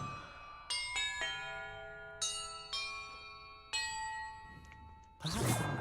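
Clear, ringing bell tones in a Hogwarts Legacy puzzle chime one after another, about five separate strikes that each decay slowly, followed by a short burst of rushing noise at the end.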